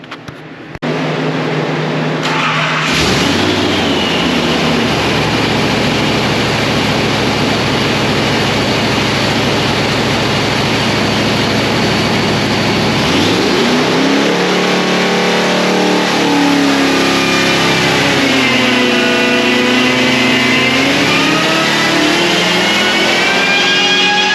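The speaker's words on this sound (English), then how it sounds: "we're going to take some jet out and we'll do another pull" A blown 502 big block engine is started and revved on a dyno, settling into a loud steady idle and then climbing in a long rising pull, its roar and supercharger whine growing close and constant.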